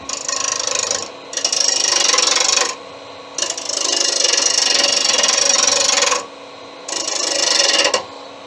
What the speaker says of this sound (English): Use a ball gouge to round them off, because then you don't have to worry about what orientation they're in.